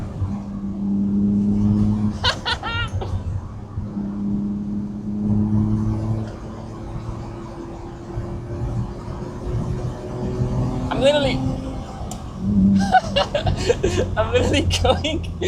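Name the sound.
BMW E36 car accelerating hard around a corner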